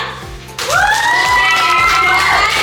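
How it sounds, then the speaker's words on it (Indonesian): An audience at an MC school event in Surabaya breaks into loud, sustained clapping and cheering that starts abruptly and carries on steadily, with the hubbub of a crowd close around it. "teman-teman semuanya yang sehat boleh berikan tepuk tangannya dulu nggak?"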